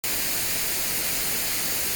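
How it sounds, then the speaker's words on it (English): Loud, even hiss of a white noise sample in the SoundBridge sampler, layered onto a hi-hat, filling the whole clip at constant level before cutting off abruptly at the end. "I'm gonna drag and drop white noise as well."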